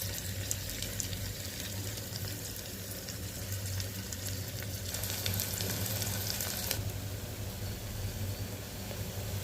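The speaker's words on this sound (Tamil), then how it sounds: "வெங்காயம் வந்து நல்லா பொன்னிறமாக, நல்ல செவந்து பொன்னிறமாக வர்ற வரைக்கும் நல்லா வதக்கிக்கலாம்" Onions sauté in a pan for beetroot rice, giving a continuous soft sizzle under a steady low hum with occasional stirring scrapes. A brief watery hiss swells midway and then cuts off.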